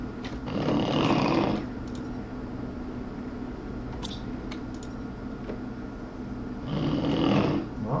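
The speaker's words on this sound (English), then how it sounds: "Uh-oh, I think my missus is snoring away." A woman snores in a room, two drawn-out raspy inhaled snores several seconds apart with a low steady hum between them, moderately loud and close.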